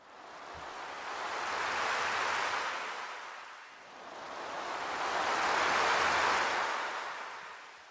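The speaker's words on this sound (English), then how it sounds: "You hear the gentle lapping of the waves on the shore" Gentle waves lap on a shore in two slow, soft swells of rushing surf, each building and fading, steady and unbroken with no voices.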